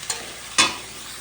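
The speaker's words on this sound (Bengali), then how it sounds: "এবার আমি পেঁয়াজটাকে ভাজবো যতক্ষণ না পেঁয়াজটা ব্রাউন হয়ে যায়" Onion frying in oil until browned, heard as two short, close bursts of hissing sizzle and stirring, the second louder, over a faint steady background.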